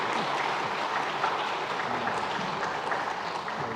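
A church congregation applauds during a Sunday worship service, giving a steady wash of clapping from many hands that holds at an even level for a few seconds without any talk over it.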